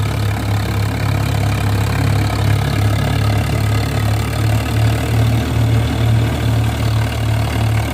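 A tractor engine idles close by at night during straw-making, with a deep, constant low rumble and even throb, running continuously without pauses.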